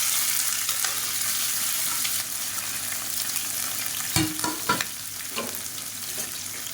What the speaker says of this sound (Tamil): இப்போ எண்ணெய் நல்லா சூடாயிடுச்சு ஒரு ரெண்டு பெரிய வெங்காயம் வந்து நீளமாக கட் பண்ணி வச்சுருக்கேன் அதை சேர்த்துக்கலாம்